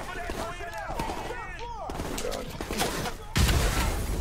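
Gunfire in Call of Duty: Modern Warfare Remastered, the campaign's shotgun among other shots, with a louder, heavier blast near the end, under a steady bed of game noise and ambience.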